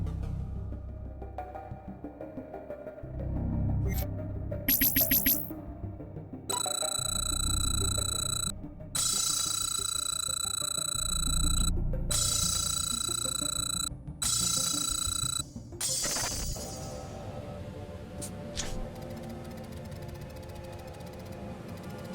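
A mobile phone rings over and over in loud repeated bursts of electronic tones with short gaps between them, set against a low rumbling background with no talking.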